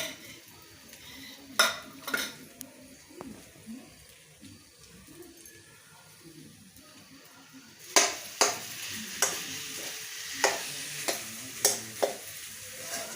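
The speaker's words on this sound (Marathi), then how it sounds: "हळी घालायच्या त्याच्यात थोडीशी परतून घ्यायची आपल्याला" Garden cress seeds are sautéed in ghee in a pan, with a faint sizzle under sharp clinks and scrapes of a spoon stirring intermittently, louder in the second half.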